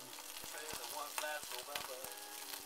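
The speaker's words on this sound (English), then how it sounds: "Frying on the skillet." Small flounder fry in a skillet with a soft, steady sizzle and scattered crackles and pops, heard quietly and close up with faint background sounds.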